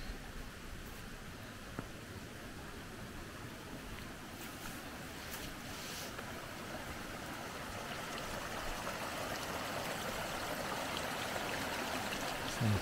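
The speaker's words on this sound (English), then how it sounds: "the water neatly carved its way around all the brush" Rainwater flowing along a swale on a farm and carving around brush after gentle rainfall, a faint, steady broadband wash of running water with wind noise that swells slightly over time.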